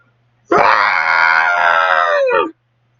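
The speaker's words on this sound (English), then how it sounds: "the same guy screaming." A man lets out a single long, loud, agonized scream lasting about two seconds, raw and strained, alone against near silence.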